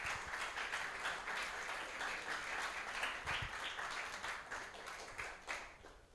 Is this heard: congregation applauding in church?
yes